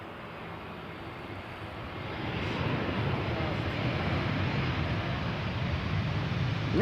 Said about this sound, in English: It's an A320 arriving from London Heathrow.